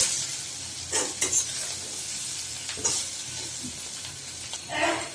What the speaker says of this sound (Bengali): আর আমি তেলের মধ্যে আরো ভাজবো।